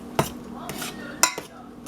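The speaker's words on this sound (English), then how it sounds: "So I'm gonna stir one more time." Pasta being stirred in a pot of boiling water with a utensil, giving a few sharp clinks and scrapes against the metal pot over a bubbling background.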